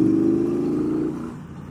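A 2019 Triumph Bonneville Bobber Black's engine drones steadily up close, a strong low hum that drops and softens partway through as the rider shifts gears, with no talking.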